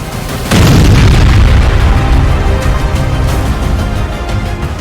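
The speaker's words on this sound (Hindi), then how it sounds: "ये धमाका रूस में हुआ है।" A sudden, powerful explosion booms in Russia after a brief quiet, then a heavy roaring rumble sustains for several seconds, loud and distant-sounding with no voices.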